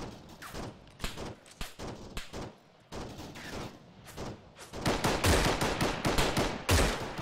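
Incoming gunfire in the military game Arma: a dense stream of sharp shots and bursts close by, growing louder and heavier toward the end, with no talk over it.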